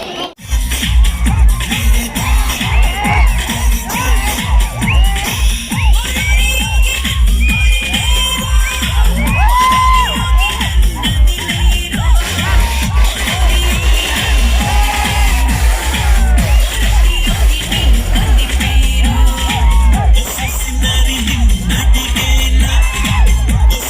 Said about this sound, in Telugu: సో ఇప్పుడు అందుకు మీరు గట్టిగా చప్పట్లు కొట్టాలి కదా, గట్టిగా ఇంకా.